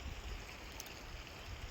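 Creek at peak high water running past a lot with an upper building site and lower green area, giving a steady, broadband rushing wash with no voices.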